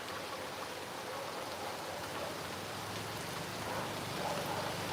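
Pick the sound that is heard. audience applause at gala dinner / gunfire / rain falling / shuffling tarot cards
rain falling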